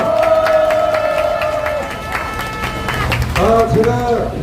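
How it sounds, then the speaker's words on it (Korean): A Saturday street rally crowd cheers and claps as a guest is welcomed, a broad wash of voices and applause with sustained tones over it and a loud swell toward the end. "남영신 사모님 우리 뜨거운 함성과 박수로 맞이해 주시면 감사하겠습니다"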